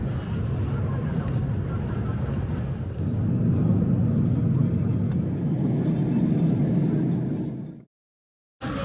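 Steady engine and road rumble from a car on the drive from Brasov to Bran Castle in Romania, heard from inside the vehicle with a person speaking over it, before cutting out abruptly near the end.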